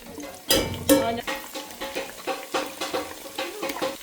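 Egusi soup ingredients fry and get stirred in a pot outdoors in an African village, with rhythmic scraping strokes over a soft sizzle and a couple of louder knocks at the start.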